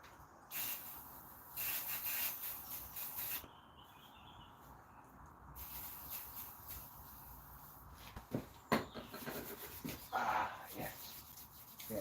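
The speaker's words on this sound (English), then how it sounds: "We want to lube our hands." Hands slick with WD-40, rough from working with concrete, rub together in soft, intermittent scuffing strokes, close and fairly quiet, with faint background noise between the rubs.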